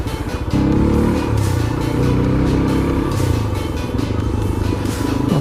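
Motorcycle engine revving and accelerating on a residential street, a loud close rumbling drone that kicks in after a brief pause and holds with shifting pitch, mixed with clattering road noise.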